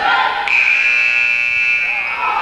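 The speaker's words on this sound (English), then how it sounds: "They let him play through the buzzer." A loud, sustained buzzer blares at a women's college basketball game between Green Mountain College and Thomas, one long steady tone over faint crowd noise.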